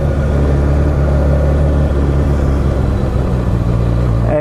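Motorcycle engine running steadily and loud throughout, with a deep continuous rumble as the rider shifts from first into second gear, then a rise in pitch near the end.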